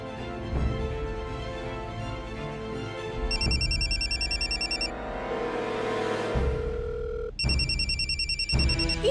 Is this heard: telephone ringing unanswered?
yes